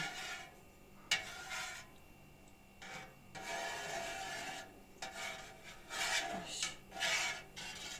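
Cheese curd for caciotta is cut through in a pot, producing soft scraping, rasping strokes that come in uneven bursts with short pauses, close and moderately quiet.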